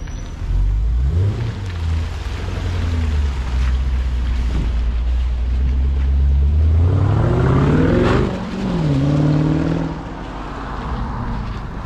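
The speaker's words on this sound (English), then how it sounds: "a new Land Rover Defender 90 V8 with a Quicksilver Sound Architect sports exhaust system on it" A new Land Rover Defender 90 V8 fitted with a Quicksilver Sound Architect switchable sports exhaust rumbles deep and loud, revving up, dropping back, then revving again close by.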